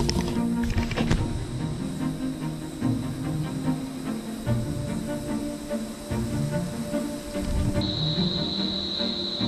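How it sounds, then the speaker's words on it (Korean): Cicadas or birds call in the Australian bush, giving a dense, steady background of insect-like buzzing and chirping, with a sharp high-pitched whine joining near the end. "이 매미 소리인지 새 소리만 빼면 딱 좋을 것 같은데"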